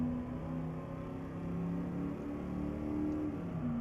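A Mercedes-Benz C 63 AMG S engine revs steadily in Euro Truck Simulator 2, a sustained droning game engine note with a gently rising and falling pitch, alone without speech.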